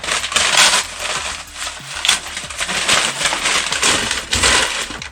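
Packing paper is crumpled and stuffed into a 16 by 12 by 8 cardboard box as cushioning, producing close, bursty crinkling and rustling in irregular handfuls.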